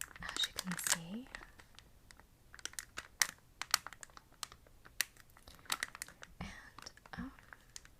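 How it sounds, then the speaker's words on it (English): Crinkly plastic grocery packaging is handled up close in sharp, irregular rustles and crackles, with soft whispered speech between them. "it's very crinkly"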